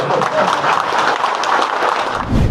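Applause from an audience at a BJP party-joining event, a dense steady wash of many hands clapping together for the whole stretch, loud and close, with no voices standing out.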